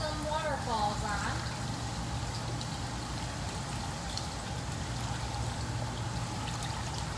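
Water from a swim spa waterfall pours in a steady, continuous rush, a close and even stream of splashing that barely changes over several seconds.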